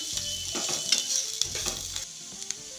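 Chopped green chillies, onion and garlic sizzle in hot oil in a pan, a steady loud hiss broken by stirring scrapes and clinks, with no talk.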